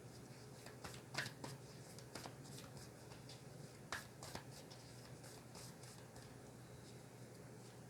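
Oracle cards being shuffled during a spirit animal card reading, giving soft papery riffles and scattered sharp card slaps over a steady low hum, close and fairly quiet.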